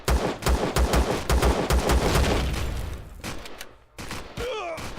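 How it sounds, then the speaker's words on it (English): Enemy gunfire in the video game Empyrion comes as a rapid burst of loud, evenly spaced shots for about three seconds, then a few scattered single shots, followed by a short electronic warble at the end. "I'm taking damage from something that's shooting me through walls"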